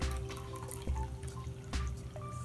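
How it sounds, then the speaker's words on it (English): Half a cup of water is poured into a slime mix, heard as soft dripping and trickling with a few small splashes, close and fairly quiet. "It says add 1/2 cup of water to the mix."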